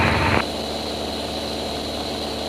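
A small training airplane's propeller engine drones steadily in flight, a loud continuous hum filling the cockpit after a brief radio-like burst at the start.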